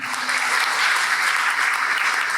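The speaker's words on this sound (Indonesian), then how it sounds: "Kasih tepuk tangan yang meriah untuk kita semuanya" Seminar audience on poverty alleviation gives sustained, dense applause, a steady roar of many hands clapping throughout with no speech.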